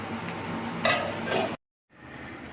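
Onion and tomato sautéing in a pan, with a soft steady sizzle and two short bursts of stirring and scraping, then a brief silence before the sizzle resumes more quietly.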